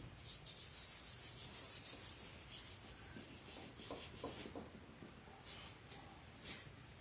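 Soft mashed craft material being rubbed by hand to smooth out cracks while shaping an Easter bunny: a quiet, rhythmic rasp of repeated short strokes that slows and fades toward the end.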